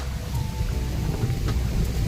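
Rain falling steadily at a lake under cloudy skies, a dense, even hiss with soft patter throughout and no voices.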